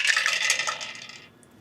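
Five dice rolled in a board game, a dense clatter of tumbling dice that skitters on for about a second, then settles and stops near the mic.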